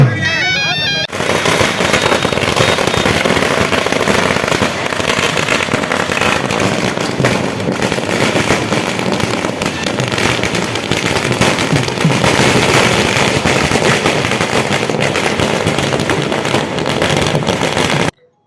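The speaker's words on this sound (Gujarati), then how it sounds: "સોત્તમભાઈ સોલંકીના નિવાસસ્થાન મીરા કુંજ ખાતે આગેવાનો કાર્યકરોએ ઉમટી પડી ફટાકડા ફોડી આનંદની અભિવ્યક્તિ કરી હતી" Rapid, continuous bursts of firecrackers popping and crackling loudly for many seconds at a celebration, a dense overlapping barrage with no pauses.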